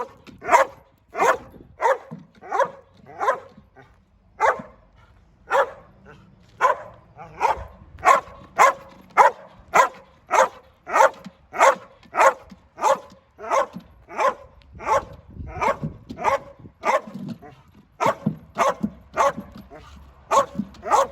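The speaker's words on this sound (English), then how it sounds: "Yep, so that was the dog. That was the dog from today." A spaniel barks repeatedly in steady, evenly spaced single woofs, loud and close, continuing for about twenty seconds with brief pauses and no talk over it.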